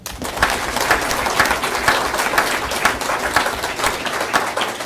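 A city council meeting audience applauds students and their parents, a dense, steady round of clapping from many hands with no one speaking over it.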